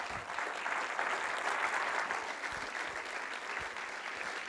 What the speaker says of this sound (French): J'aimerais qu'on applaudisse Charlotte Mazzini.